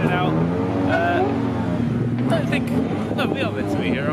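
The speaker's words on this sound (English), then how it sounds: "Here we are, as all the cars are coming out." Cars pulling out of a festival site, their engines humming and rolling past nearby while people chat over the traffic.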